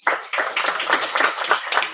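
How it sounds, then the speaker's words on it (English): Applause from a seminar audience at a winter school event, thanking a sponsor: dense, steady clapping from many hands that starts abruptly and carries on evenly throughout, fairly close and unaccompanied by talk. "a big applause for TESCON also"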